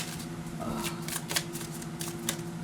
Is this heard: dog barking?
no